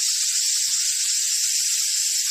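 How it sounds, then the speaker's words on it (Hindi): A pressure cooker whistle hisses continuously and steadily on a home kitchen stove, bright and sustained, with nothing else heard. "सीटी आ गई कुकर में, क्यों?"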